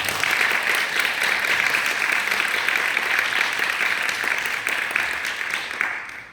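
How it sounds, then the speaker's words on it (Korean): Sustained applause from a school audience of parents honoring a principal retiring after about 35 years of teaching, dense and steady clapping filling the room throughout before tapering off at the end. "고생해주신 우리 교장 선생님께 큰 박수 부탁드립니다"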